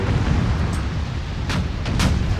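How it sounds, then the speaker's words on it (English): Tank guns fire in the Tank Warfare Tunisia 1943 video game at the Faid Pass, heavy low rumbling battle noise with a couple of sharp crack-like reports punctuating it, loud and sustained. "my guns are firing now, which is good"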